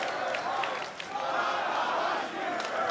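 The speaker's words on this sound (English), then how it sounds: "Fans cheering for Tanahashi and giving him some inspiration." A wrestling arena crowd cheers and shouts steadily for a wrestler during a match, a dense roar of many voices with brief swells, loud and continuous throughout.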